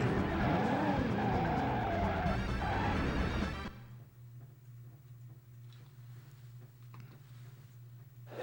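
A car skids hard, then a loud crash as it is rammed amid traffic and police cars in a driving video game. The roar cuts off abruptly to a quiet hum with faint ticks.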